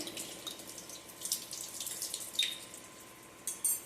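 Water trickles and splashes softly as it is poured into a grinding jar of coconut, salt and spice mixture, a faint, uneven pour lasting a few seconds.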